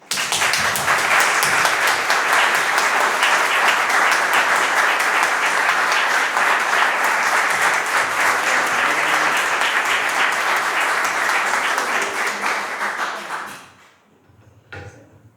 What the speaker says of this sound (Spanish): paso la palabra al padre Custodio para que le pida un fuerte aplauso.